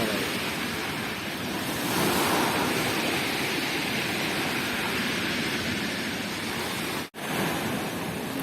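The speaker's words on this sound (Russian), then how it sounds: "Вон волна, глянь какая." Sea waves break on a beach in a steady, loud roar of surf that swells slightly partway through, with wind noise on the microphone and a brief dropout near the end.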